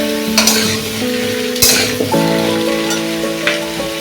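Vegetables and potato fry in a pan with a loud, close sizzle, broken by a few scraping stirs of the utensil and a low, steady tonal hum underneath.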